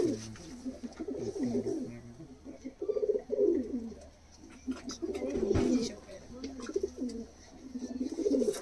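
Pigeons cooing steadily in a loft, with repeated low throaty coos and a few faint chirps against a light background hum.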